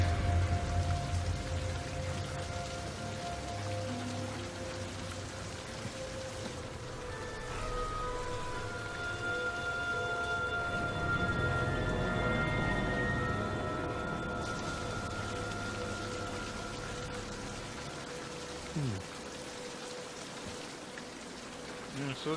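Rain falls steadily in a King's Quest video game, a continuous hiss that runs the whole time under soft tonal music, with no speech over it.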